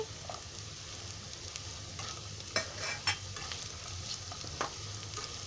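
Green beans tossed into a hot pan over a raised gas flame, a quiet steady sizzle with occasional clinks and scrapes of stirring against the pan.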